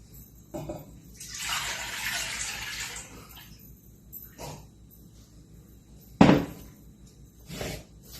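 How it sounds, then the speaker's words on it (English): Apple juice poured for homemade apple jelly, a soft liquid splash lasting about two seconds, followed by a few brief knocks and clatters from the kitchen. "we need to pour in our apple juice"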